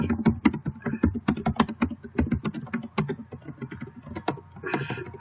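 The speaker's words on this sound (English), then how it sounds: "I'll type this one out." Fingers type on a computer keyboard, producing a close, brisk run of irregular clicking keystrokes with brief pauses, quiet and without talk.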